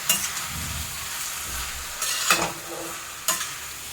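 Grated raw mango sautés in ghee with a soft, continuous sizzle, punctuated by a few sharp scraping stirs near the end.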